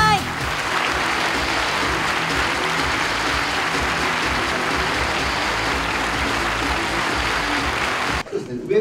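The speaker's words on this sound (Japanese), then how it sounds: "大きな拍手をお送りください。" A crowd applauds the new players joining a sports team for the 2020 season, a dense continuous clapping wash that cuts off abruptly near the end, with voices mixed in.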